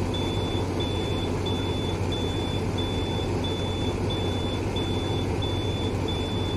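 Locomotive warning beeps in Train Simulator Classic on a Turkish mountain route: a regular series of short, high, evenly spaced beeps, about two per second, over a steady low cab rumble.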